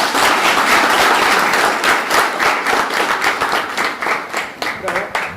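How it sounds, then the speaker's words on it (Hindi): An audience gives loud, sustained applause for sanitation workers at a ration distribution event, dense clapping that slowly thins out toward the end. "एक बार जोरदार तालियां।"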